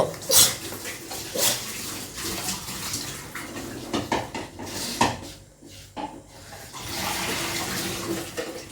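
In a home kitchen, water drains from soaked lentils in a sieve, with trickling and splashing and several clinks and knocks of metal pots and utensils. The sounds come in uneven bursts, close by.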